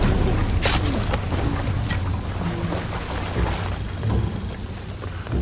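Heavy rain pours steadily in the video game Shadow of the Tomb Raider, with rumbling thunder and dense spattering on surfaces forming a loud, continuous storm bed.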